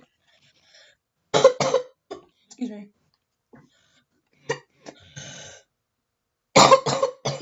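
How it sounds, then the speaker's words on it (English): Several short, harsh coughs from one person at close range come in bursts, with a few quiet spoken words in between. "Coughing fit."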